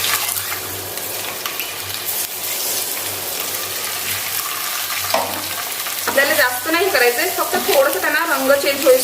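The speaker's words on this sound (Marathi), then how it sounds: "आता आपल्याला हे फास्ट फ्लेम वरती व्यवस्थित अंडी परतून घ्यायचे आहेत" Eggs with salt, turmeric and red chilli powder are stir-fried over a high flame. A strong sizzle runs with spatula stirring, and a wavering tonal noise rises over it in the last few seconds.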